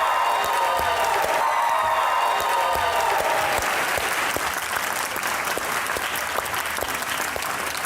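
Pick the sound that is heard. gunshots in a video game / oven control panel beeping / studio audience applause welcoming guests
studio audience applause welcoming guests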